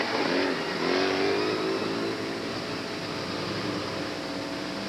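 A 1986 Mustang LX with a 5-liter V8 runs an autocross course at a solo racing event, its engine droning steadily and loud throughout with broad road and wind noise.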